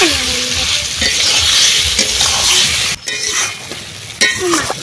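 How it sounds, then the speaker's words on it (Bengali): Small Ganges mourala fish frying in a pan, loud close sizzling with repeated scraping and clinking as a spatula stirs them, a brief lull midway before the frying resumes. "এবার দিয়ে দিচ্ছি বন্ধুরা মোরলা মাছ, গঙ্গা মোরলা।"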